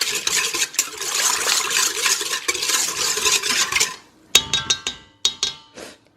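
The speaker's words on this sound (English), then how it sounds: "what I will do now is whisk it together so it all mixes in" Steady scraping whisk strokes in a bowl as yeast and sugar are mixed, then after a pause a few sharp clinks of the whisk tapping against the bowl's rim.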